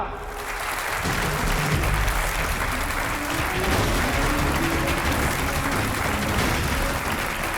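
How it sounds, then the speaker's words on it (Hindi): An audience at a cooking competition welcomes the chief guest with loud, sustained applause, a thick close wall of clapping that starts suddenly and stays even throughout, with crowd murmur blended underneath. "तालियां।"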